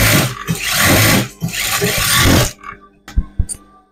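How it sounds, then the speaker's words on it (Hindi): A sewing machine runs steadily while stitching a seam on a homemade petticoat, a dense mechanical whir lasting about two and a half seconds, then stopping for a few faint knocks and handling sounds. "अभी इसी को लग की सिलाई मार रहा है।"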